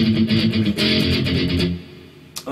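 Distorted electric guitar chugs through power chords in the verse of a song with a quick, driving rhythm. It plays loud and alone, then cuts off near the end on a short scrape.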